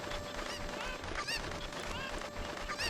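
Chickens clucking in Zelda: Ocarina of Time, several short squawking calls scattered over a quiet game background, fairly faint.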